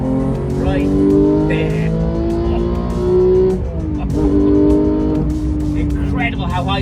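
A manual Porsche 911 GT3 engine revving hard toward 9000 rpm in third gear, a loud rising howl that dips at a gear change and climbs again, with tire noise and brief speech over it.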